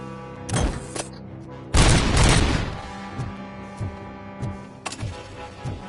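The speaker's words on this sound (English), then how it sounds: "They're dropping bombs now." Bombs burst in the RoboCop: Rogue City video game on PS5, a heavy booming blast followed by a series of sharp crackling explosions and gunfire-like hits, moderately loud and scattered across a few seconds.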